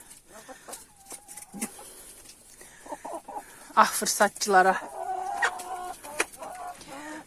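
Newly hatched chicks cheep and a hen clucks in a farmyard, with short bursts of peeping and louder clucking near the middle, and people talk quietly over the birds.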